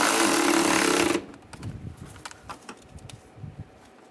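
A power tool tightens a bolt on a 2013-2016 Dodge Dart windshield washer reservoir, a loud, close whirring burst for about a second, then a few scattered soft clicks and knocks.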